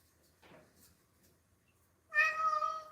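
A house cat gives a single clear meow near the end, preceded by a faint soft sound and quiet room tone.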